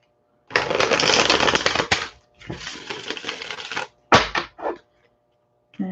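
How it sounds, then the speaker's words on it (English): Tarot cards shuffled at close range in two long riffling bursts, followed by a few short snaps as a card is drawn and laid out, with no talking. "But let me throw a card out."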